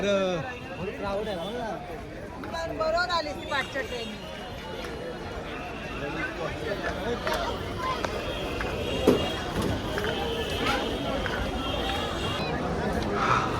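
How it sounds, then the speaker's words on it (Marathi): Crowds mill around the Gateway of India in Mumbai, a steady bustling hubbub of many voices and footsteps, with a nearby person talking loudly over the background chatter throughout. "गाईज आता आम्ही आलो गेट ऑफ इंडियाला आणि गर्दी बघा ही"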